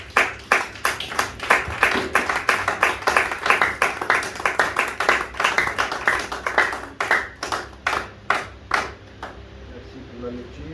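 A church congregation claps together in a quick, steady rhythm that fades out toward the end, with voices mixed in.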